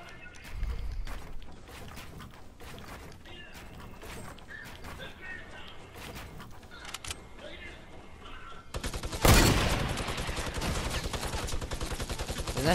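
Gunshots ring out in Fortnite Battle Royale's Playground mode, first as scattered shots and then as a dense, rapid burst of fire near the end.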